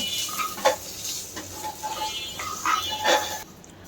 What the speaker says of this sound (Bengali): এখন এটা এটাকে সুন্দর করে আবার ভাজতে হবে ড্রাই ফ্রুট সহ